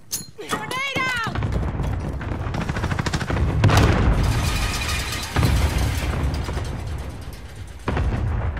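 Gunfire and a booming grenade explosion in a military shooter video game, loud bursts of shots and blasts running continuously with an in-game voice calling out over the action.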